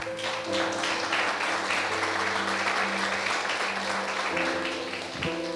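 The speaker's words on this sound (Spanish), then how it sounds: "Denle un aplauso al Señor." A church congregation claps in praise during a sermon, a sustained, fairly loud crowd of hands with steady texture, while a low organ or keyboard chord hums underneath throughout.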